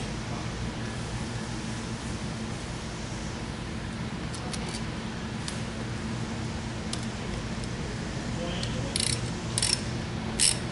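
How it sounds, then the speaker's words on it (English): A ratchet loosening bolts on the discharge cover plate of a Hanbell compressor, steady mechanical noise with a few sharp metallic clicks and ticks near the end, close by. "Loosen all bolts on the discharge cover plate and remove."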